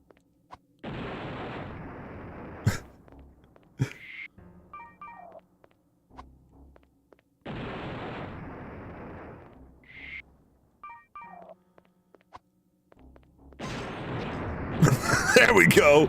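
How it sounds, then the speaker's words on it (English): Grenades explode in Overblood 2, with two long booming blasts several seconds apart among scattered clicks and beeps, ending in a louder, noisier burst. "Let's throw some grenades at it"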